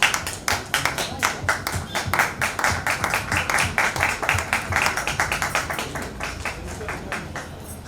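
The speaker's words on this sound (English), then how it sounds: "Can we have a big applause for Miss GUL PANAG on stage?" Audience applause as actress Gul Panag is welcomed on stage at a Tata Mumbai Marathon shoe and apparel preview event, with distinct sharp claps in a brisk, fairly close rhythm over a murmuring crowd.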